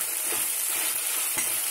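Finely chopped onions frying in a pan for a beans and dry fish curry, a dense close hiss of sizzling oil with a few soft stirring knocks.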